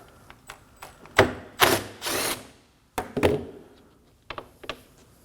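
Bolts holding the radiator fan of a 2016-2020 Kia Sorento 2.4L are backed out with a 10mm socket, heard as close metallic clicks, clunks and short bursts of ratcheting spread unevenly across a few seconds.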